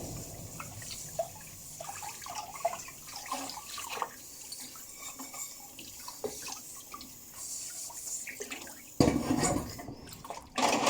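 Dishes washed by hand under running water while wearing pink rubber gloves, a steady splashing and trickling from the tap with clinks and dripping, and a louder gush of water near the end.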